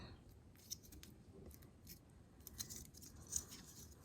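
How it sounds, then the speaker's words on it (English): Scissors snip a small quarter-inch section off a paper craft piece, giving a few faint, brief cuts spread over a quiet background with no talking. "take some scissors and cut one of these little 1/4 of an inch sections off"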